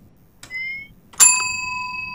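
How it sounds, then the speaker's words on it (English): In the horror video game Suite 776, a bell rings twice: first a soft, brief ding, then a louder, bright strike whose tone lingers and fades, with no talking. "Bell has been rung a fifth time."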